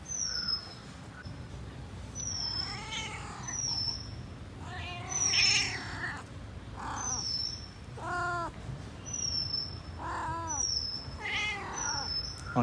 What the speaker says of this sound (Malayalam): ചെറിയ പൂച്ചക്കുട്ടിയൊക്കെ ഉഷാറായി ഇപ്പോൾ.